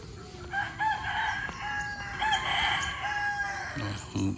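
A rooster crows from near a hillside village on a morning walk, a few drawn-out calls with other fowl clucking at moderate distance, outdoors with light ambient noise.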